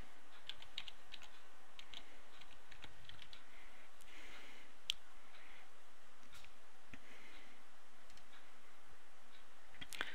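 Light, irregular clicks from a computer keyboard as a folder name is typed, soft and close against a quiet background hum.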